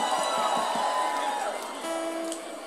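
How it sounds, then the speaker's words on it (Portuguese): Crowd cheering and whooping at a party show, a broad wash of shouts and scattered claps that holds steady, then thins slightly toward the end. "Os aplausos de vocês pra Vita For."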